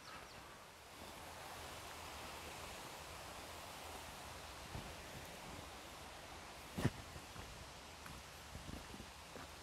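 Water rushing at the JPS hydroelectric plant in Maggotty, St. Elizabeth, Jamaica, a faint, steady broadband flow heard from a distance, with a few brief knocks partway through and no talk.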